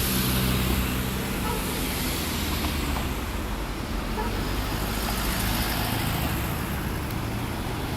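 Several Porsche cars drive past on a busy street in Osaka, Japan. Their engines and tyres make a loud, continuous roar that stays steady the whole time, with no pause between the passing cars.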